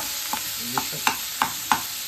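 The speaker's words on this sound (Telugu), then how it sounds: "ఈ ఆయిల్లో ఇంక ఇట్లా కారం వేయనారా?" Chili powder sizzles in hot oil for chicken keema, a steady hiss close by, broken by regular scraping clicks from stirring.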